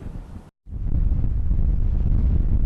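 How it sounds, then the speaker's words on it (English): Strong wind roars and buffets the microphone in heavy gusts near Alpine during a Red Flag Warning, briefly cutting out before surging back as a loud, sustained rush. "That's what it sounded like near Alpine as wind gusts whipped things around."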